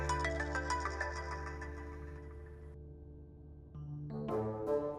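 A mobile phone ringtone plays for an incoming call from Kunal, a bright electronic melody with sustained tones that fades and then rises again, loud and close with no speech.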